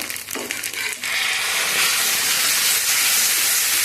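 Tomato paste hits a hot pan and bursts into a loud, hissing sizzle that jumps up abruptly after a brief quieter stretch, then holds strong and steady to the end.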